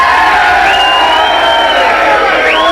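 A large outdoor crowd of about 10,000 at a 1985 radio roadshow event, loud sustained cheering and shouting, with whistles or whoops rising over the roar.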